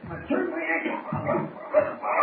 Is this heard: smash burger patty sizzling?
no